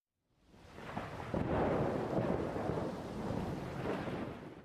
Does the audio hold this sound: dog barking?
no